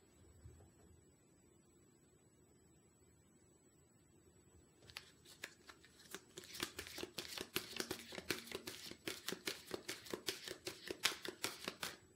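Oracle cards shuffled for a tarot reading, starting after a quiet pause, then a rapid run of close, crisp riffling slaps and flicks that repeats steadily to the end.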